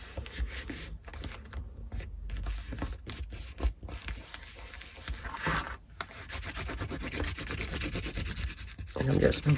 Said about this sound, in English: I'm just burnishing that into all those crevices.